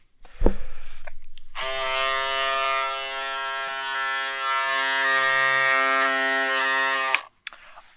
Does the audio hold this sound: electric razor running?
yes